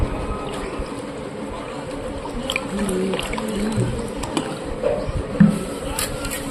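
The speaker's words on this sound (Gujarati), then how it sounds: "અને હવે એમાં નાખી દઈશું પાણી." Water being poured into a pani puri spice mix with lemon water at home, a close, steady liquid trickle and splash running for several seconds with small clinks and a brief knock near the end.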